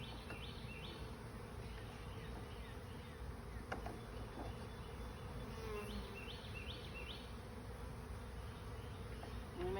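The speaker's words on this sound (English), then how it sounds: "So all these bees are going to build up here." Honey bees buzz around a hive fitted with a Cloake board for queen rearing, a faint continuous outdoor drone of many insects with occasional nearby wingbeats.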